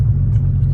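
A Nissan R32 GTR with its exhaust cutouts open idles in a deep, steady rumble, loud and close, across a brief moment with no voices.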